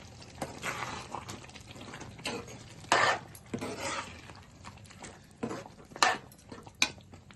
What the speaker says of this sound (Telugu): కొత్తిమీర కలుపుకొని దించేసుకుందాం